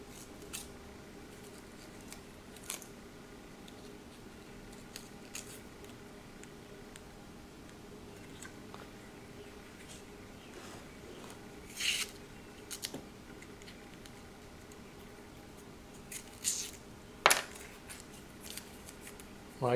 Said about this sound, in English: Cut off the excess tape.